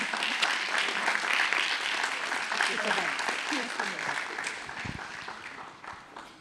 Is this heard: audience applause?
yes